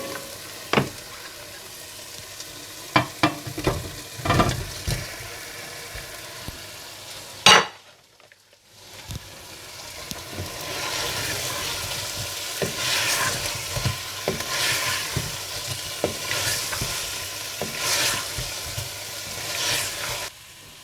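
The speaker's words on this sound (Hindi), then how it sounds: "अच्छी तरह मिलाने के बाद आप इसमें फ़िश डालकर मिला लें।" Fish pieces stirred into frying biryani masala: close, crackling sizzle with scattered spoon scrapes and clanks against the pot, a brief sharp knock and short near-silent gap midway, then a denser continuous sizzle with rhythmic stirring.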